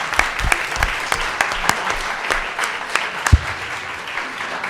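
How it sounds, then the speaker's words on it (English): Audience applause for a panel of speakers at a discussion event, a steady wash of many hands clapping with a few sharper, louder claps standing out, lasting the whole stretch without talk. "Please join me in giving our panelists a round of applause."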